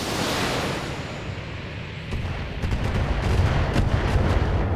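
Missile launches and weapons fire in the BattleTech video game, a steady roaring rumble of salvos that grows louder and denser partway through, with sharp bursts near the end.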